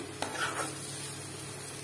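Tomato being fried in spice paste in a pan while being stirred, a short stretch of soft steady sizzling with a light scrape and clink of the spoon, no speech.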